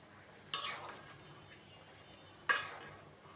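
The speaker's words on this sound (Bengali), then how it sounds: "এই তো ঢাকনাটা নামিয়ে নিলাম। এখন একটু নেড়ে দেব।" Two sharp metallic clinks of a lid or spoon striking a pot during cooking of a mixed vegetable curry, spaced about two seconds apart over a quiet kitchen background.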